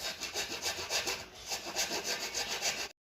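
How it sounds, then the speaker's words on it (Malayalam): Rhythmic back-and-forth strokes of a hand saw cutting through wood, close and steady, about a dozen rasping passes. "ഒരു തടി മുറിച്ച് പകുതി വെക്കുകയാണ്"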